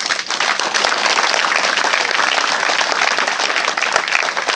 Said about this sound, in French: Est-ce qu'on peut acclamer Jésus?